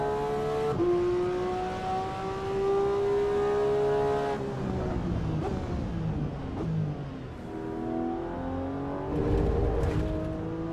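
A race car's engine in Assetto Corsa EVO revs high and steady, drops sharply on a downshift, then climbs again through the gears as the car brakes and accelerates through a corner, loud and alone.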